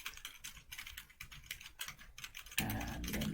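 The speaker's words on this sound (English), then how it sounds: "let me just type it" Quiet, rapid clicking of keys on a computer keyboard comes in an uneven burst of strokes, close up, ending with a louder thud and a rise in background noise.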